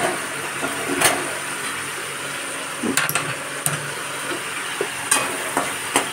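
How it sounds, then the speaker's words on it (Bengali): A pangas fish head fries in hot oil with a steady, moderate sizzle, broken by a few sharp clicks and clatters of a utensil. "আর এখানে এই তেলটাতে আমি মাথাটা ভেজে নেব।"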